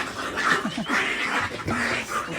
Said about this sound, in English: You can hear the puppies in the background having a bit of a play.